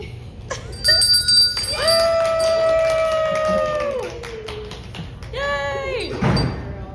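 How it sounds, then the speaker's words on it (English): A bell rung at a bridal shop peals in a long, bright, sustained ring that slowly fades, then sounds a second, shorter ring, with voices and room noise in the background. "when you find your dress, you're going to ring the bell"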